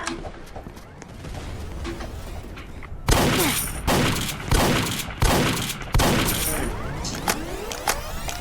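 Guns fire in the Roblox game War Age Tycoon: loud, close volleys of rapid gunshots in repeated bursts, with quieter scattered shots before them.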